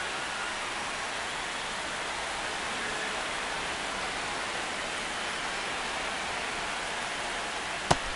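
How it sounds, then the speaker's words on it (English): Steady rain falls during a baseball game in MLB The Show 26, a continuous broadband hiss with no distinct drops. A single faint click comes near the end. "This rain is not letting up"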